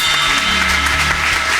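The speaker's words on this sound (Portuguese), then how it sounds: "aplauda o mais forte que você pode a Ele" A church congregation claps loudly during a worship service, a dense, continuous wash of applause with a low musical hum beneath it.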